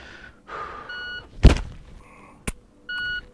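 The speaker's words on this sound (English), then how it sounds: "let's try a couple dry fire reps" An empty handgun is used in a quick dry-fire drill: an electronic timer beeps, a dull thud follows, then one sharp metallic click and another beep, all close and isolated.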